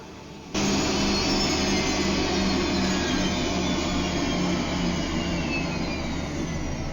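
A spaceship engine in the space game Freelancer roars in abruptly after a brief quiet moment, then holds a loud, steady, close turbine-like drone that eases slightly toward the end.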